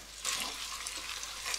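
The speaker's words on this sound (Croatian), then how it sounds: "Znači prvo ću doliti vodu tek toliko da prekrije sav ovaj grah." Water being poured into a pot of canned white beans for pasta e fagioli, a steady close splashing gush that holds evenly for about a second and a half, with no voices.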